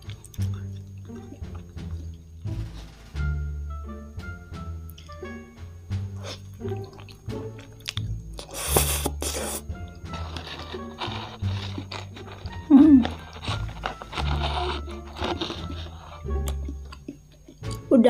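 Shrimp-filled takoyaki is chewed close to the microphone, with wet, squishy mouth sounds repeating over a low, sustained tonal background.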